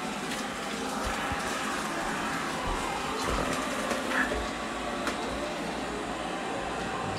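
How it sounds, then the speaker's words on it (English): A vacuum cleaner running somewhere in a room, giving a steady, moderately loud broadband whoosh with a low rumble that holds constant throughout, with no talk over it. "Vacuum cleaner's being a little aggressive."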